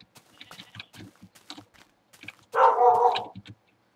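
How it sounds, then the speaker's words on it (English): A dog in Minecraft giving one loud, short bark after a string of soft clicking taps, close and alone, fading out quickly. "That dog will not shut up."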